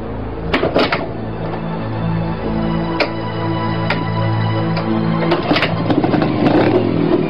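A motorcycle engine hums steadily nearby for several seconds, with scattered clunks and clatters over the running motor as the bike pulls away.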